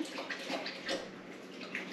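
An animal drinking water, soft lapping and splashing sounds in a quiet indoor space, several close, irregular slurps over a couple of seconds with no talking.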